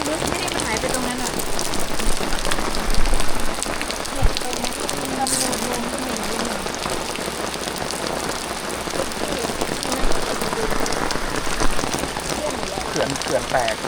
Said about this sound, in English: Still raining, but had to put everything up regardless in the rain.